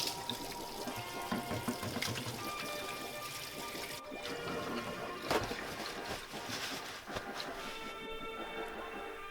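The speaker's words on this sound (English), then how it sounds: "Washing your hands is crucial." Running tap water splashing steadily into a sink during hand washing while preparing ceviche in a home kitchen, a continuous rushing spatter with a brief heavier splash midway.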